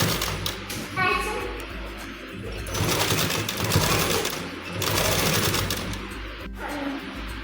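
A sewing machine stitches lace onto a fabric edge in rapid, rattling bursts close up, with pauses and a person speaking between the runs.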